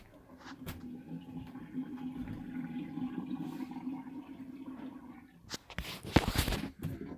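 A cheap $30 Walmart bilge pump runs aboard a sailboat, a steady low motor hum with water churning, then louder splashing and gushing bursts near the end.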